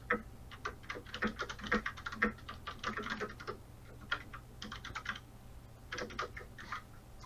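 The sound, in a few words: typing on computer keyboard keys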